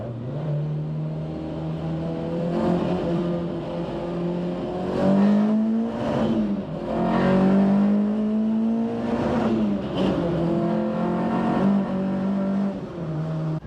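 A car accelerates hard on a 60-mile-an-hour road, its engine note climbing and dropping through several gear changes, loud and close from inside the cabin, with no talking.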